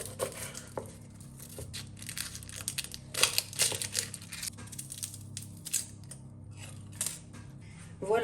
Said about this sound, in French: pour les échalotes, pas compliqué, hein, je vais juste les éplucher